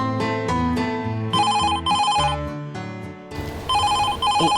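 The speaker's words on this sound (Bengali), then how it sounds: "নিশ্চয়ই মা ফোন করেছে।" A telephone rings in a domestic drama scene, a loud electronic ringtone in repeated melodic bursts with short gaps between them.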